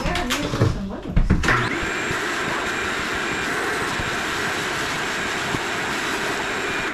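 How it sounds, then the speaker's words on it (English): Water is sucked off a failed shower pan floor during a bathroom tile demolition. A few sharp knocks come first, then a loud, steady vacuum roar whines on close and unbroken. "vacuum. Get that water up."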